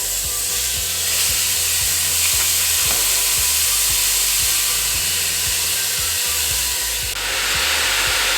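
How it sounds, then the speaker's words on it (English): Ground beef fries in a pan for a cheesecake-style macaroni dish, a steady loud sizzle and hiss with repeated low scraping knocks as the meat is broken up, no talking. "I'm going to go ahead and put my ground beef in here. I like to break mine up like so."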